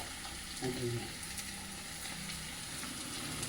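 Green chillies and sliced onions dropped into hot oil, a faint steady frying sizzle with a brief stir and a murmur of voice near the start.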